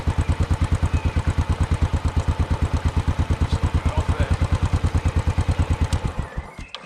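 A Royal Enfield Classic 500 Stealth single-cylinder motorcycle idles close by with a steady, loud thumping beat, then cuts off abruptly near the end.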